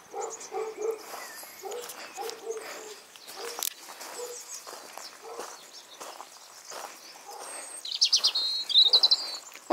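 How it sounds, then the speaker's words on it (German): Small birds chirp and tweet intermittently at a distance, with a quick burst of higher trills near the end over faint outdoor rustling. "Die Vögel zwitschern."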